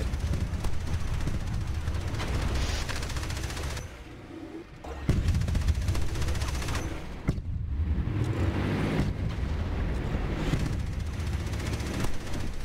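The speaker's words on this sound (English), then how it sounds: "these machine guns are so annoying" Rapid machine gun fire in the Tanki X tank game, dense bursts of gunfire with booming impacts, loud and continuous with a brief lull midway.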